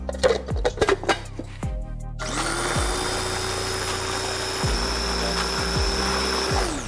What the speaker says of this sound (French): Nous allons mixer le tout.